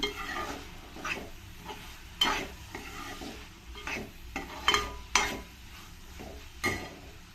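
Rice frying and being stirred in hot oil in a pot for fenugreek-leaf pulao, with a steady soft sizzle broken by repeated scraping strokes and light clinks of the spoon against the pan, close and fairly quiet.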